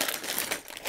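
Plastic bags crinkling as a Wange building set is unpacked, a brief close, dense rustle with no voice.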